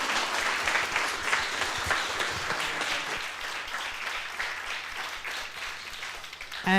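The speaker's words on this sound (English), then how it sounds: "I'd like you guys to give a big applause to Theo for" Audience applause at the close of a talk on what founders face after investment, dense steady clapping from a crowd that carries on evenly for several seconds with no talk over it.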